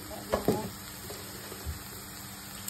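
Bay leaves hit hot oil in a home kitchen pan and give a quiet, close sizzle with a couple of brief crackling spurts early on, then a soft steady frying hiss.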